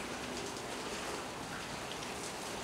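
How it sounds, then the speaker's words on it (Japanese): Steady rain falls on a small island campsite during a fishing trip, a dense, continuous hiss with scattered drops, even and fairly close throughout. "雨が止まないと何もできんから"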